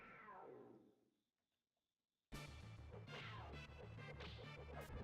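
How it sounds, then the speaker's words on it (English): Cerberus, the hound boss in Dracula X, lets out loud snarling, cat-like roars and crashes over game music, breaking in suddenly after a brief quiet gap. "Those are cat noises."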